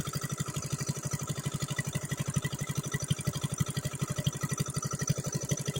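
Diesel engine running steadily on a rice farm, a fast regular low thumping pulse that stays even and fairly close throughout with no talk over it.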